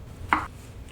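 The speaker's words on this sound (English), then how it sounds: "I'm just trying to cut it a little smaller to give it a little bit of an easier time with all these ingredients" One sharp knife chop through ginger on a cutting board, a single close crisp impact against quiet background.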